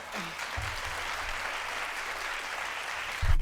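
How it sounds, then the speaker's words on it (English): A studio audience on a daytime talk show breaks into steady applause, dense and even throughout, with a low bump at the start and a louder swell near the end. "Why are we applauding that?"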